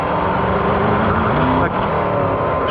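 Car engine roaring loud and steady as it revs hard after the transmission pops out of gear, with a brief dip partway through, the thick engine drone filling the whole moment.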